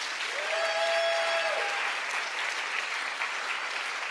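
A crowd at an arts advocacy event bursts into sustained, enthusiastic clapping, many hands at once filling the room evenly for several seconds, with a brief voice briefly audible near the start.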